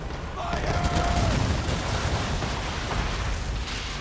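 Ship cannons fire in a naval battle in the video game Assassin's Creed III, a continuous dense barrage of booming blasts and rumble filling the whole stretch, with shouted voices faintly under the noise.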